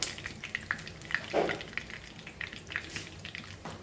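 Black mustard seeds fry in hot oil, giving a light steady crackle broken by small sharp pops, close up and heard without any talk.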